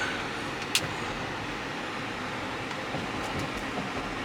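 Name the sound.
SUV driving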